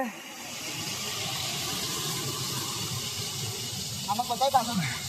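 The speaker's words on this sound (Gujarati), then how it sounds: "કમ્પ્લીટ વોટરફોલ જેવું લાગે છે." Steady rushing water from a waterfall in Mehsana pours continuously at moderate loudness, with a brief voice breaking in near the end.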